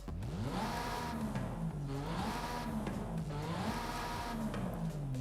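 Stock exhaust of a 2022 Porsche 718 Cayman GT4 RS in Forza Horizon 5, a loud continuous engine note rising and falling through revs with no talk.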